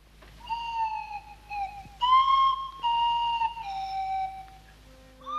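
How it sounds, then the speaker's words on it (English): The Clangers' swanee whistle plays sliding, wavering tones in short phrases, fairly soft and close, heard alone over a faint low hum. "when they hear that Swanee whistle, they think it's the clangers."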